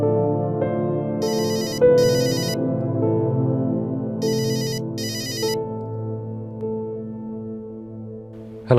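An outgoing phone call rings back twice in paired electronic trills, clear and close over a low sustained musical background.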